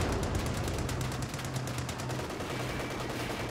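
Gunfire in a WWII-era battle video game set around Caen, a dense, steady crackle of shots with a low engine-like drone underneath, loud and continuous with no talking.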